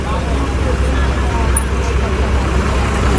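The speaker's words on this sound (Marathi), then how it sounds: "मंडणगड स्टँड मधून गाडी सुटल्यानंतर आता प्रवास पुढचा सुरू होतोय मुंबई मंडणगड गाडी पण आली बघा" A state transport bus pulls in at the Mandangad bus stand, its steady engine and road rumble filling the clip, with people talking over it.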